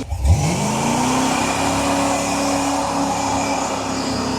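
A supercharged G-Body Chevrolet Monte Carlo SS engine revs up loud and close, then holds a steady, droning high idle with a faint whine, with no talking.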